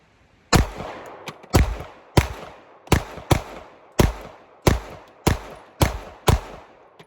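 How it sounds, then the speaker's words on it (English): CZ P01 and CZ P07 pistols fire about ten sharp, loud shots in double action, irregularly spaced roughly half a second to a second apart, each crack followed by a short ringing decay. "I want to shoot these in double action first, just to get that double action pull"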